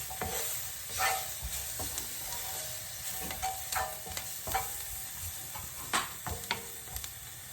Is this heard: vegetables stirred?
yes